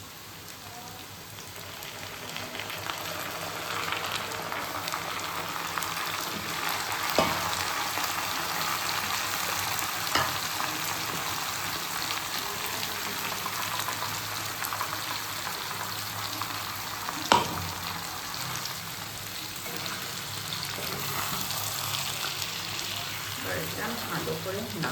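Mutton sizzles and fries in a pan with onions, potatoes and ginger-garlic paste, a steady dense crackling hiss throughout with occasional louder pops and clicks as it is stirred.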